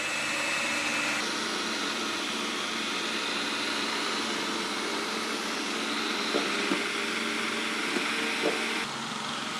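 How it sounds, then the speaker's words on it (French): Eureka J15 Ultra robot vacuum-mop raising its suction on a rug with its mop pads lifted: a steady, close whooshing hum holding level throughout, with a few faint knocks partway through. "Au niveau des tapis, il lève ses lavettes. Et il augmente sa puissance d'aspiration."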